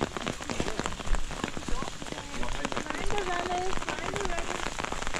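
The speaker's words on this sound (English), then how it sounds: "Also got caught in the rain." Steady rain patters on a surface along a trail near Old George Dam, with a few faint voices and bird-like chirps in the background.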